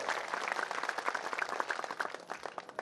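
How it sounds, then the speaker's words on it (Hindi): An audience claps loudly to welcome a guru at a religious gathering, with crisp, rapid individual claps merging into lively, sustained applause. "एक बार जोरदार ताली बजा करके महाराज जी अभिनंदन स्वागत होता है।"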